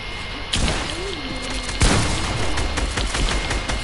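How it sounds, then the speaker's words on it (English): Shotgun blasts in a video game boom loudly, with a sharp shot early and a heavier one near the two-second mark over dense, noisy in-game action. "Oh, I hate those shotguns."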